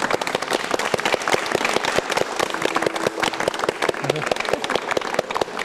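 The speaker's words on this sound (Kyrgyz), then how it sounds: "Катырап кол чаап узат." A studio audience on a television dating show claps hard and rhythmically, sharp individual claps clearly audible in a lively, continuous burst, with faint voices in the background.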